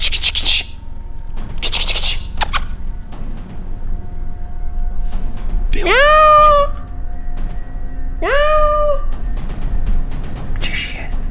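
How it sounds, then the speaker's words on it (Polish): A cat shut in somewhere on a farm meows twice at night, two clear drawn-out cries a couple of seconds apart, amid scraping and rustling noises and low voices. "Co tam może być, kot zamknięty?"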